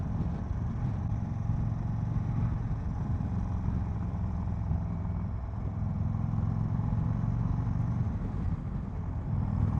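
A 2022 Indian Chief motorcycle is ridden at cruising speed, its low engine rumble steady and continuous alongside rushing wind noise, with no talking.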